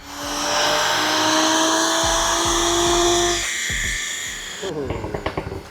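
A stock Toyota GR Supra making a base run on a dyno, the engine rising in a long loud wail, then dropping to sputtering pops and crackles as it winds down.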